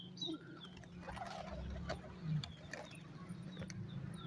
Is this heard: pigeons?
yes